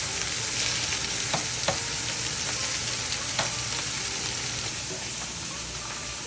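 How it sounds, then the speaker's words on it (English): Onion and sausages sauté together in a pan for a family-style Italian Sunday sauce, giving a steady broadband sizzle with a few sharp clicks of a utensil against the pan. "we're going to add the onion and let that saute"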